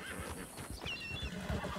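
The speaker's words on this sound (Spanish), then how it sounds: "Pero mi caballo, ¿qué? ¿Dónde se ha ido?" A horse whinnies in a Spanish-language roleplay video game, with hoof clip-clop beneath, fairly faint and brief with a busy game background.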